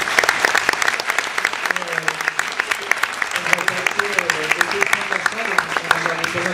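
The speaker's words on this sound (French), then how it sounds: "On peut déjà vous applaudir pour nous." Steady applause from an audience at a talk at ENSAE Paris fills the clip, dense clapping throughout, with a voice speaking over it partway through.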